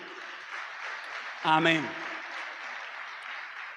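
A church congregation applauds in a steady, dense wash of clapping that runs throughout, while a voice briefly speaks over it near the middle.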